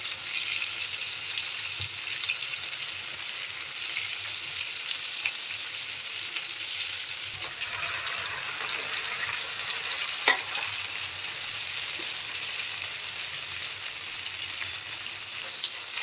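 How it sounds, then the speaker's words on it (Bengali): Prawns frying in a pan, a steady close crackling sizzle of hot oil that holds evenly throughout, with occasional faint stirring clicks. "এভাবে এই চিংড়ি মাছটাকে আমি সুন্দর করে ফ্রাই করে নেবো।"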